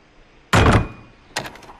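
A door in the video game Far Cry 3 opens with a loud, heavy thud, followed a moment later by a second, softer knock-like thump.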